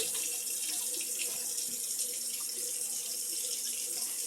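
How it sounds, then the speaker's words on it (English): Tap water runs steadily into a sink while potatoes are rinsed for a crockpot corned beef and potatoes meal, a constant close hiss and splash with no voices. "We're rinsing off the potatoes."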